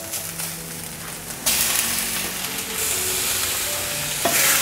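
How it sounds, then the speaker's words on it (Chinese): Preserved radish stir-fried with mushrooms and tofu in a wok gives a continuous loud sizzle that surges midway, with scraping tosses and no voices. "继续翻炒， 就充分的把它炒得香香的。"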